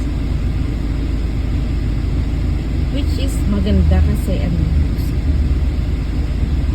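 A line of cars waits outside a school gate at pickup time, with a steady low engine and traffic rumble throughout and a person talking over it.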